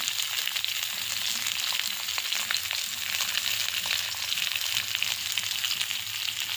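Brinjal and four or five slit green chillies fry in a hot pan with a dense, continuous crackling sizzle at close range and no voices.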